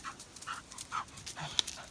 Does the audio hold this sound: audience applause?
no